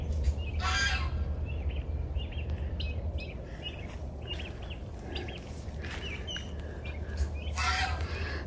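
Blue slate turkeys, a mating pair in a hatching yard, gobble and call in repeated bursts at moderate distance over a steady low outdoor hum, without talk.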